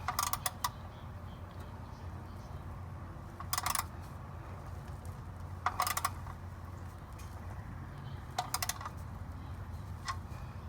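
Ratchet wrench tightening the oil drain plug on a 2020 Toyota RAV4 Limited, short bursts of rapid clicking in three or four groups over a low steady hum, close and fairly faint, no talk.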